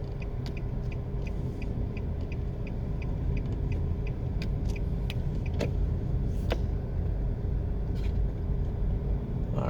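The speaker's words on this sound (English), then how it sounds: "Let me just take a quick drive around the entrance, show you guys the entrance." A car drives slowly around the entrance of the Caribbean Estates housing estate in Portmore, St. Catherine, with a steady low engine and road rumble throughout and a few faint high clicks and ticks over it.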